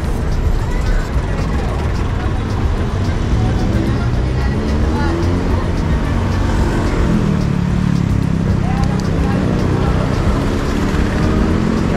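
Street traffic heading toward a mall rumbles past on a city street while riding a new mountain bike, a loud continuous roar of cars and buses with engines revving, and a voice talking over it.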